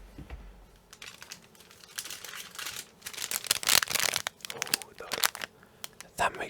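A small plastic bag of stickers is pulled out and handled up close, giving irregular bursts of crinkling and rustling that grow busier and louder, with a soft voice in the background.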